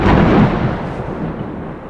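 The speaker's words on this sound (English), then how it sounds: "Can't you hear the thunder and lightning outside?" Deep, rumbling thunder during a storm rolls out at full strength and slowly fades over a couple of seconds, heard alone without any voices.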